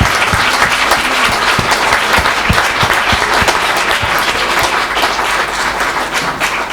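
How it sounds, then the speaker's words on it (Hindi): An audience at a Hindi poetry gathering applauds warmly, a dense, sustained wash of clapping with some distinct individual claps standing out, fading slightly toward the end. "जितनी तालियां हो सकती है इन दोनों के लिए आप बजाएंगे तो मुझे अच्छा लगेगा।"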